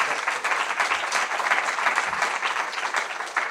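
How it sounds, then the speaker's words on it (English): Sustained audience applause fills the room at an evening Black History Month event, a dense, steady wash of clapping from many hands, fairly close and loud without a break. "So can we give a round of applause again"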